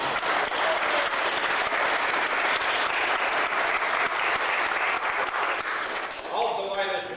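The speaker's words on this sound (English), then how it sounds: "I think she deserves a big round of applause" An audience at a 1989 Huck mania event breaks into loud, sustained applause, dense clapping that fills the room at close range and begins to thin out near the end.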